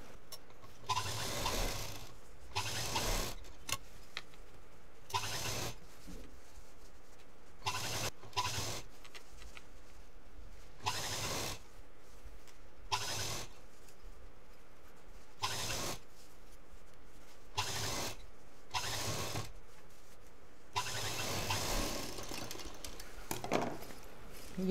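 A sewing machine stitches the seams of a handmade side purse, running in repeated bursts of rapid mechanical whirring separated by short pauses, loud and close throughout.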